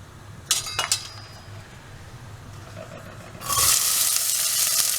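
Spices go into hot sesame oil in a pan, with a couple of sharp metallic clinks first, then a loud burst of bright sizzling that swells partway through and holds steady to the end.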